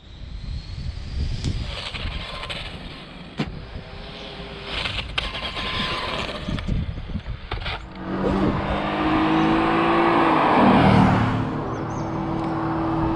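Car engine in a video game winding up to speed, loud and steady, with a rising tone in the second half that holds near and continuous and carries no voices over it.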